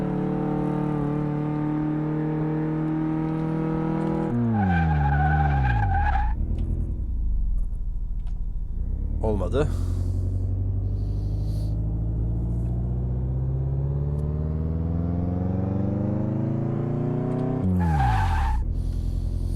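During a brake test, a car with its hood removed revs and slows repeatedly, its engine droning while tires squeal in short bursts, with a brief spoken word.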